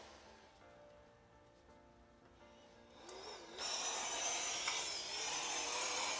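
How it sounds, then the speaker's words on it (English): A Cleanspace powered respirator blower, just unplugged from its harness, whirs softly and then surges louder with a wavering, unsteady pitch, close and alone. "This will cause the blower to kind of go erratic for a second"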